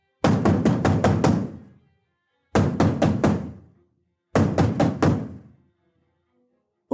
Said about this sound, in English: Somebody knocked at the door.